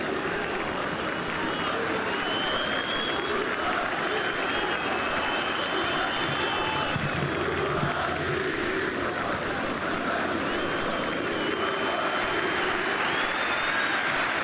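Dense, steady roar of a large football stadium crowd cheering throughout, loud and continuous with a broad wash of noise, during a Euro 2008 qualifier between Turkey and Greece.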